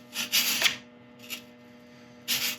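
Sandpaper of 400 grit is rubbed along the edges of a turned wooden bead, making three short scratchy strokes separated by quiet gaps over a low steady hum.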